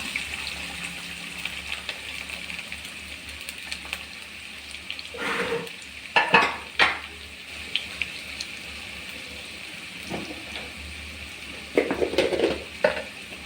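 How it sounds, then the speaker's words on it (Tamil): Chopped small onions (shallots) drop into hot oil in a pan, with a low sizzle punctuated by several louder bursts of stirring and clinking of utensils against the pan. "அதில் சின்ன வெங்காயம் கட் பண்ணி வச்சிருக்குது ஆட் பண்ணலாம்."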